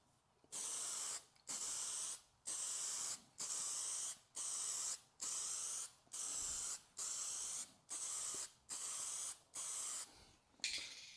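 An aerosol spray paint can hisses in about a dozen evenly spaced bursts, each roughly half a second long with short gaps, as a final coat goes onto panels close by.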